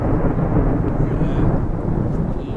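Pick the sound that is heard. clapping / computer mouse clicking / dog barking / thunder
thunder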